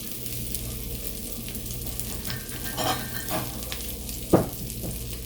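Fried rice sizzling in a pan with light oil while being stirred, a close steady crackle with scraping stir strokes and one sharp clank of utensil against the pan near the end.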